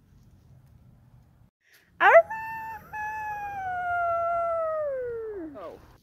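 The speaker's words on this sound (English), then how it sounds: "That's just some other wolf's howl." A long, wavering wolf howl rises sharply then slowly slides downward, loud and close, over a faint low background rumble.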